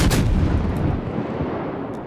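Naval ship guns in World of Warships fire a loud, deep booming salvo that rumbles and slowly decays, heavy and close with no talking.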